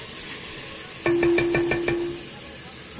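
Onion frying over high heat in a pan with garlic, giving a steady close sizzle. A brief, ringing scrape of a stirring utensil rises in the middle and then drops back into the hiss.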